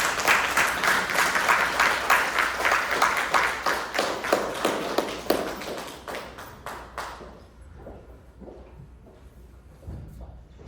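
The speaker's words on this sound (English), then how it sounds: "Please join me in a rousing round of applause for Dr. Edda L. Fields Black" Audience applause for a guest historian at a Western Reserve Historical Society event at the Cleveland History Center, dense steady clapping that fades out after about seven seconds, leaving quiet room tone.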